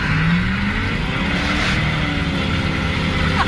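A Ford OBS pickup truck with a 460 engine accelerating hard from a launch, its loud exhaust roar rising steadily in pitch, close and continuous.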